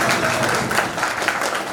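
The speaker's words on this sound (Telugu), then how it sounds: "ఒక్కసారి మీకు అందరికీ మరొకసారి క్లాప్స్ కొట్టండి." A school reunion audience of the 1990-91 SSC batch at a municipal high school in Proddatur claps together, a dense, steady patter of many hands filling the room at moderate loudness for a couple of seconds.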